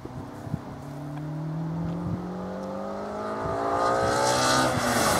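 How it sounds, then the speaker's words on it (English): A Lotus Elise S2 Sport 190 sprint car at a Curborough sprint championship round, its engine note rising steadily through the gears as it drives past, loud and continuous throughout with no talk. "Matthew Roberts, from Birmingham, in the S2 Elise Sport 190"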